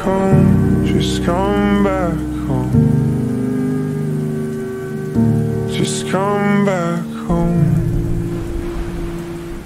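Steady rain layered under a slowed-down pop song, a constant hiss of falling drops running beneath sung vocals and soft accompaniment throughout.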